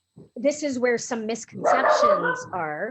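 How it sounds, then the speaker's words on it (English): A dog barks and yips in short bursts close by, mixed in with a person talking over it. "Sorry about my dog."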